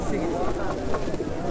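Pigeons cooing at a busy pigeon market in Bangladesh, a low steady murmur of birds mixed with nearby traders' voices talking throughout.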